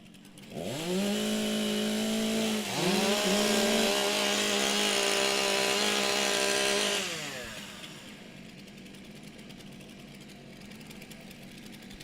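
STIHL chainsaws at a timbersports race revving loudly together at high, steady pitch for several seconds, with a brief dip and rise, then dropping back to a rough idle.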